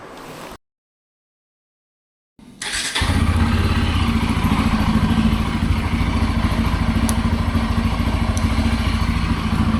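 A Bajaj Pulsar N250 motorcycle starts up: a brief cut to silence, then a thump as the engine catches and settles into a loud, steady, close-up running drone.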